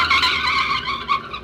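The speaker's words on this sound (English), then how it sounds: "Suddenly, the second swerves ahead and forces the first car into the curb." A car in a radio drama swerves at night and skids into the curb. Tires squeal harshly in a brief, loud burst with no voices.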